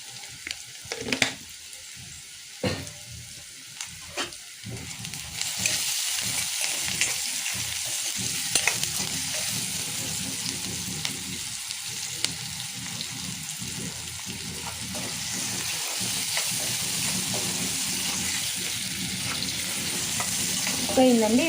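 Chopped onion frying with salt in a pan for a drumstick and raw prawn curry, heard as a loud, steady sizzle with stirring scrapes early on, close and continuous.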